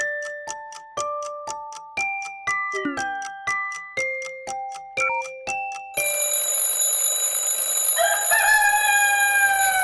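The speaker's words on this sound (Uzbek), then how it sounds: "Ciring ciring, ciring ciring saat ciringlar ciring ciring" A cartoon alarm clock rings in a loud, bouncy electronic melody of regular chiming beeps for about six seconds, then gives way to a dense, bright, continuous ringing with a crowing-like tone, with no talking.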